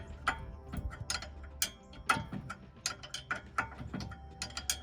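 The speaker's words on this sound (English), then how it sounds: "That wrench has a ratcheting end that makes it faster" A ratcheting wrench turns a bolt in a tight spot, giving quiet, uneven runs of sharp clicks and ticks heard close by, with no speech.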